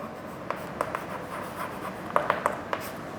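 A pen scratches across paper in short strokes, a few distinct scribbles and taps spread over a few seconds against a quiet room background.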